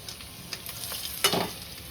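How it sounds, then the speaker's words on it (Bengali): Black cumin seeds tempering in hot oil with dried chilli for a Bengali kochupata chingri bhapa, a soft steady sizzle with a brief louder crackling burst partway through. "আর কালো জিরে ফোড়ন দিয়ে দেবো।"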